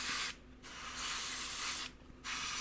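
An airbrush sprays Mr. Colour flat white paint onto a model Spitfire Mk1a wing, a close steady hiss broken by two short pauses, with no voices.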